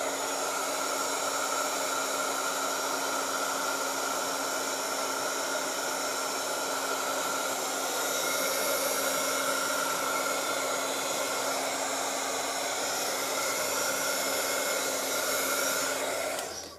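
A hair dryer or heat tool drying texture paste on a craft project blows with a steady, loud whooshing hum that runs unbroken for about sixteen seconds before cutting off, with no talking.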